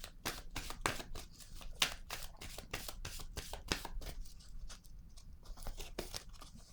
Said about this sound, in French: Je vais déposer une carte pour comprendre.